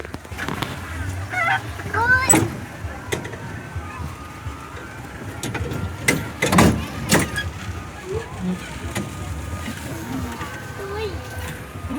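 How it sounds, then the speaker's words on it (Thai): Ducks honk in short loud bursts at close range, scattered unevenly across the scene, with people talking nearby and general outdoor background noise. "เป็ดร้ายเนาะ"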